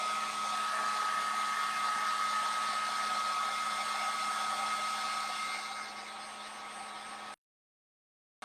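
A hair dryer blows steadily and close with a constant whirring hum while drying chalk paste on a stenciled home decor piece, then cuts off abruptly near the end, leaving silence.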